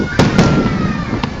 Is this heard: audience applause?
no